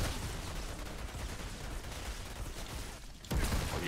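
A deployed turret firing in the Outriders video game, rapid dense bursts of gunfire mixed with mechanical clatter, fairly loud and continuous, dipping briefly before a sharp heavy impact near the end.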